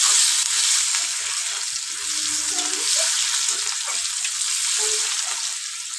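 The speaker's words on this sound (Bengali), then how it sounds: "অল্প তেলের মধ্যে অল্প একটু গোটা জিরে, কিছুটা পেঁয়াজ কুচি, দিয়ে খুব ভালো করে ভেজে নেব।" Chopped onion and whole cumin seeds frying in a little oil, a steady close sizzle with faint stirring scrapes running throughout, with no talking.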